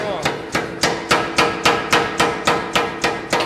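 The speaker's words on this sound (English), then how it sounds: "It's a 75-pound hammer, and it's really quite strong." A 75-pound power forging hammer pounds hot metal in a steady run of about ten loud, evenly spaced blows, each a sharp clang ringing briefly before the next strike, with no voices.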